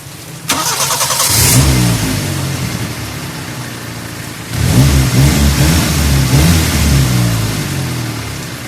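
A car's 2E engine with a newly installed contact point distributor cranks to life and revs up loudly, settles to a steady drone, then revs again with a deep, throaty rise close by.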